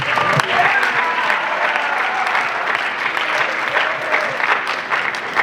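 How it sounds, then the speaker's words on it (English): A high school assembly audience claps and cheers in a large hall, a steady dense wash of applause lasting throughout with no break. "yourselves a round of applause,"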